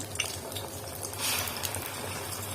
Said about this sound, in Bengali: এই দুইটা ডিম ভেজে ফেলবো